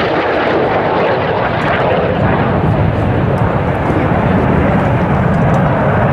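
Continuous loud roar of Red Arrows synchro pair jets pulling a hard 6G turn away from the crowd at an RAF Waddington air display, a broad, unbroken engine rumble filling the whole stretch.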